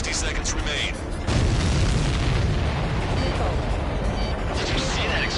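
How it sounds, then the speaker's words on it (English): A deep explosion booms as an enemy supply ship is destroyed in Ace Combat 7, a loud broadband blast that kicks in suddenly and rumbles on steadily to the end. "Did you see that explosion? Looks like that's one of them down."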